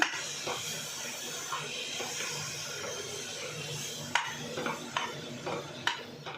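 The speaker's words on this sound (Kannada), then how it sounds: "ಸ್ವಲ್ಪ ಪುದೀನ, ಸ್ವಲ್ಪ ಕೊತ್ತಂಬರಿ ಸೊಪ್ಪು ಹಾಕ್ಬಿಟ್ಟು ಚೆನ್ನಾಗಿ ಒಂದ್ಸರಿ ತಿರುಗಿ ಕೊಡೋಣ" Soya chunk pulav with mint and coriander is stirred in a pan, with a steady low sizzle under repeated close scraping and clinking strokes of the spoon that grow sharper toward the end.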